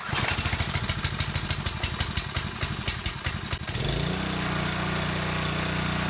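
A small gasoline engine on a Husqvarna pressure washer fires on the first pull, sputtering in rapid loud pulses for a few seconds, then settling into a smooth, steady running drone nearby.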